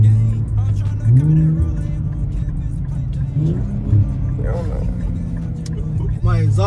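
An Infiniti Q50 engine revs and rumbles through its modified exhaust, rising and falling in pitch, with someone talking over it.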